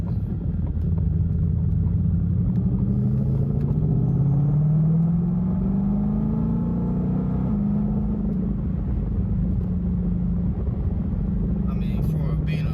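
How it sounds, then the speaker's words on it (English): A Ford Shelby GT500 V8 and its exhaust produce a close, loud, continuous rumble that climbs in pitch as the revs rise, then settles back to a steady deep drone. "this engine and the exhaust sound nasty"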